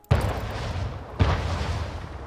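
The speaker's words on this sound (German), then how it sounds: "Schiff unter Beschuss." Two booming cannon shots from a ship in the strategy game Anno 1800, about a second apart, each a loud sharp blast trailing into a rumbling roar, with no talk.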